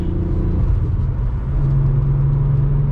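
Volkswagen MK4 R32 driving, its engine giving a loud, steady low rumble heard from inside the car, with a brief rise in pitch as it pulls along; no voices.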